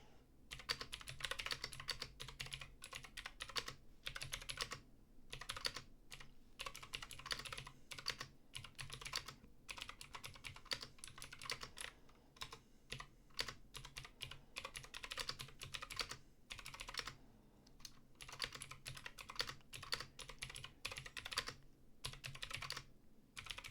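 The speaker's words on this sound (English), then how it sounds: "so I'm just going to type it quickly" Rapid typing on a computer keyboard while writing code: a dense, steady stream of close, crisp key clicks with brief pauses between bursts, running throughout with no talking.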